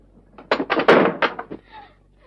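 Rapid, heavy pounding on a locked wooden door in an old Hindi film scene, a burst of about six loud thuds in quick irregular succession, then fading to quiet.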